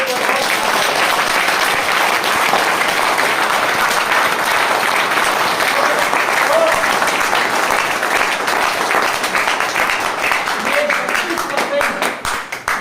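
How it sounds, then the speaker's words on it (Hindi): Loud, sustained audience applause at a network marketing seminar in India, thick clapping filling the room throughout and thinning slightly at the very end. "एक बार आपके हाथों से एक बार जोरदार उसके लिए तालियां बजाएं"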